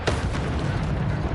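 A Bombarda blasting spell detonates in Hogwarts Legacy, a dense, loud burst with a sharp onset that rumbles on as a sustained roar.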